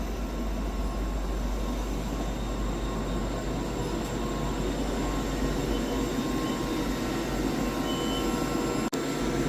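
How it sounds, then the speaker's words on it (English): A Scotrail service train departs Edinburgh Haymarket station, its steady low rumble and whine of running gear continuing loud and close without letup. "departing out now is the 12:40 Scotrail service from Glasgow Central to Edinburgh Waverley"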